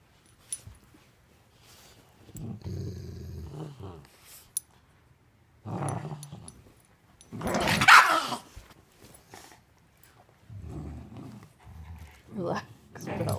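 Pet dogs tussle at play in bursts of growling, snarling and sharp barks, close and loud, with quieter gaps between the scuffles and people talking in between.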